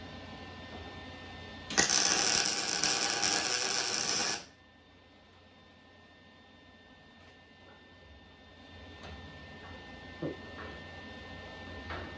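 A small welder tacking sheet metal lets out one loud, steady crackling hiss lasting a few seconds, then stops, leaving a quiet room with faint handling noises.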